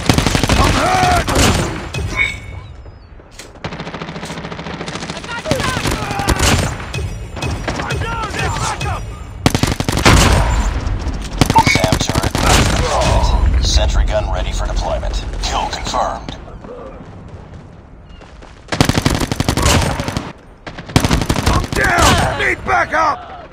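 Rapid bursts of gunfire from a submachine gun in Call of Duty Mobile, loud and repeated in clustered volleys with short gaps between them, while a player talks over the shooting.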